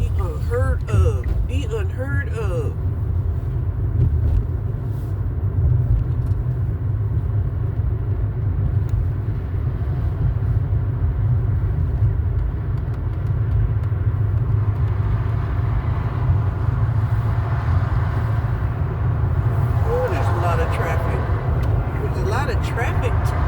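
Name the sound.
road traffic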